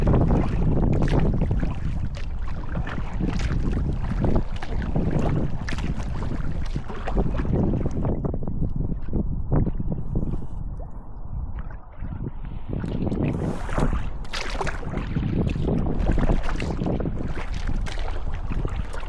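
Kayak paddling with an Aqua Bound Carbon Tango carbon paddle, blade strokes splashing and swishing through water in a steady rhythm under continuous wind noise, fairly close and loud throughout.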